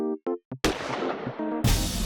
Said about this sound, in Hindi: सर, ये तो गोली चलने की आवाज है।